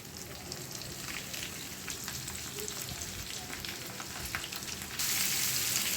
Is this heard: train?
no